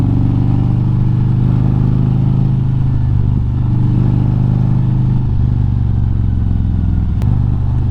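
A Harley-Davidson motorcycle cruises along a wooded road, its engine giving a steady, close, low rumbling drone throughout with no speech.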